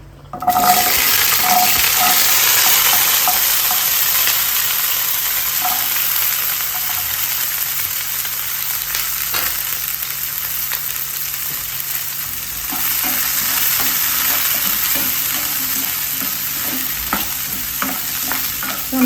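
Shallots and garlic frying in a pan for a fish curry made without coconut, a loud, continuous hissing sizzle close by with scattered utensil clicks and scrapes, and no one speaking.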